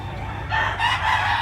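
A bullstag rooster crows once at close range, with the loud call starting about halfway through over a quiet background.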